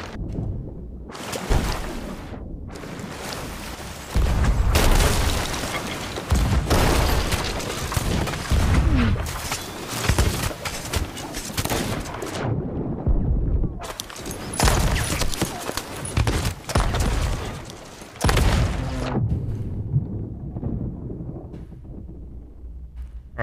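Repeated heavy booms and rumbling blasts of ship cannon fire in a video game, loud and dense, with short gaps between volleys and wind-like noise underneath.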